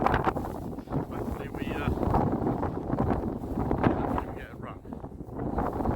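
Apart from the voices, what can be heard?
strong gale-force wind on a fenland drain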